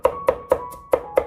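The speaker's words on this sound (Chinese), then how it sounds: "然后改刀把它切成蒜末，蒜末我们要剁细一点，不要剁得太粗" Garlic being minced with a knife on a cutting board, five or six sharp, evenly spaced chops close by with no talking.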